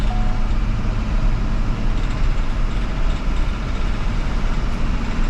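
A school bus engine rumbles loudly and steadily on a test drive, a continuous low drone with road noise and no pauses throughout.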